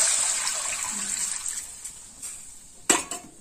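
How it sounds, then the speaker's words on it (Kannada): Water, about a litre, poured into a cooking pot while making drumstick palya, a steady splashing gush that fades over a few seconds, with a sharp clink near the end and no talking. "ನಂತರ 1 ಲೀಟರ್ ಆಗುವಷ್ಟು ನೀರು ಸಹ ಇದಕ್ಕೆ ಎರಿತಾ ಇದ್ದೇನೆ."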